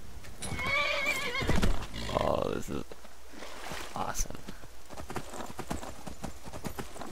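Shadowmere, a black horse in the video game Skyrim, gallops with a steady, close clip-clop of hooves and lets out a loud whinny near the start, while someone talks over much of the action.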